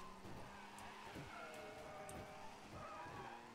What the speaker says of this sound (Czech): Vůbec to auto se nedá ovládat.